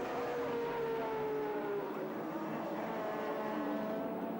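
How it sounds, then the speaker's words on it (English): Touring car at Sandown in the 1984 Australian Touring Car Championship accelerating hard down the straight and shifting up into fifth gear, a sustained engine drone with gently sliding pitch, fairly distant and steady with no talk. "Richards using all the track this time for a big slingshot down the straight, up into 5th gear"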